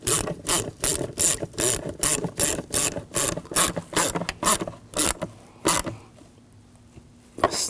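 A ratchet clicks in quick, regular bursts while a hose clamp is tightened on the intake snorkel of a 2007-2013 BMW 328i 3.0L. The close, sharp strokes slow and then stop.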